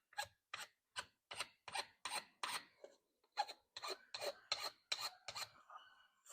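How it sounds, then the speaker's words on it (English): A hand file rasps along the front edge of a knife handle on a Turkish twist fighter, about fifteen crisp back-and-forth strokes in steady rhythm, close and fairly quiet with a short pause midway. "I finished filing up around the edge of the front of the handle"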